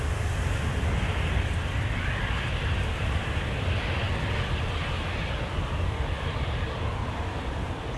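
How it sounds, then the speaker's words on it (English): A KLM narrowbody jet on its takeoff run at Amsterdam Schiphol, a steady loud engine roar with heavy low rumble and wind buffeting, constant throughout with no voices. "Another KLM narrowbody is going to take off next"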